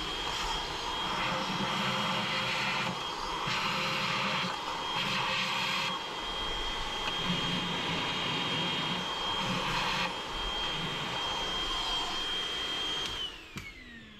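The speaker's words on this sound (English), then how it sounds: "So I'm gonna do that with my shop vac on" A shop vacuum runs continuously close by during a 3RZ turbo engine build, a steady loud whine with a low hum that shifts slightly in pitch before the motor shuts off at the end.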